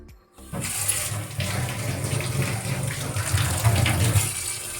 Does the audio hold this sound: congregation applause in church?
no